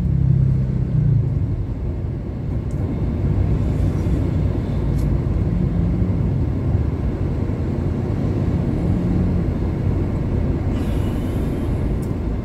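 Low steady rumble of a car stopped in a traffic jam, dense engine and road drone from inside the vehicle with a few faint clicks and light higher noises, no speech.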